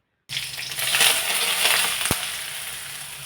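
Curry leaves and mustard seeds drop into hot oil, setting off a sudden loud hiss that settles into a steady close sizzle with crackling pops, one sharp pop standing out.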